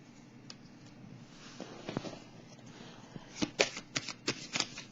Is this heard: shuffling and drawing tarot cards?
yes